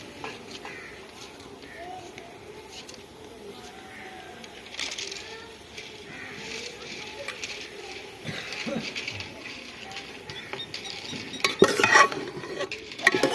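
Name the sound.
stirring chicken curry with spices and ginger garlic paste in pot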